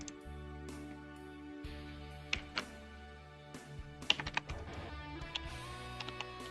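Keys clatter on a computer keyboard as a layer name is typed, a quick irregular run of sharp clicks heard alone and close up.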